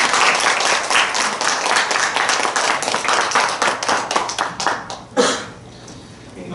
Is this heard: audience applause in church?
yes